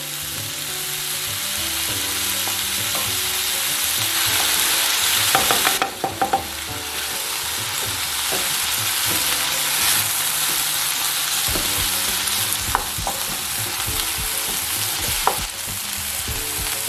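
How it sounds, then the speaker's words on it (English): Eggs getting a light scramble in a hot pan for chicken fried rice, with steady sizzling throughout and a few sharp clicks of a utensil against the pan partway through, close and continuous. "And just give these a light scramble."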